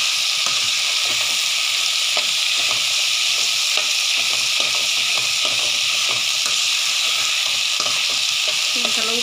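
Steady, close sizzling of chilli and potato sautéing in a pan for pav bhaji, with occasional scraping stirs and clinks throughout; no talking.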